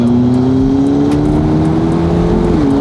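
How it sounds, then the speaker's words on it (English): McLaren supercar dropping a gear and pulling hard: a loud, close engine note climbing steadily in pitch, with a brief dip near the end as revs shift, no speech over it. "Watch me drop a gear, and just go."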